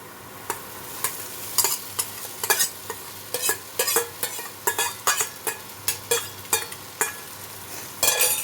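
Soaked sabudana frying with vegetables in a pan, stirred with a utensil: a soft steady sizzle under a quick series of sharp scraping strokes, about two per second, close and clear with no voices.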